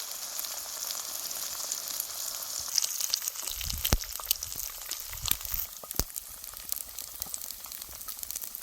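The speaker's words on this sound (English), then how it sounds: "So we're still cooking on the fire on the table." Food sizzling and frying over a propane fire pit on a table at a desert campsite, a steady crackle with scattered pops and a few soft knocks, with no talking.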